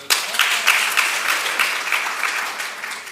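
Loud audience applause fills a hall at a Hindi-language speech event, dense clapping starting abruptly and holding steady for about three seconds, with no voices over it.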